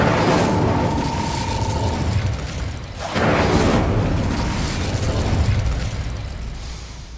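A fire spell blast from Hogwarts Legacy bursts with a loud whooshing roar, dips briefly around three seconds, then flares again into a sustained rumbling crackle that slowly fades.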